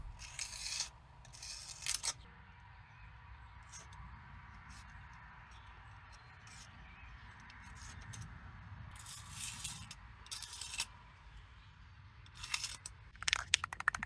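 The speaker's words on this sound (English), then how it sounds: "scraping the old gasket residue off" Scraping of old gasket residue off the differential cover of a Grumman LLV mail truck, a close dry rasping in short repeated bursts with quiet pauses between strokes.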